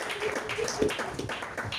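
A church congregation applauds during a French-language worship service, making a steady, moderately loud wash of overlapping claps with no clear pauses.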